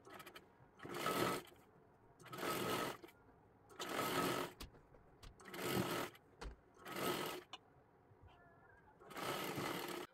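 A sewing machine stitches around a blouse neckline in six short bursts of rapid whirring, each lasting about a second, separated by quiet pauses, close and clear.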